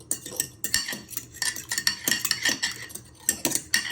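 Eggs whisked in a bowl with a metal utensil, producing a rapid, irregular clatter of clinks and scrapes against the bowl, close and fairly loud with no talking, for a cheese and bacon croquette breading.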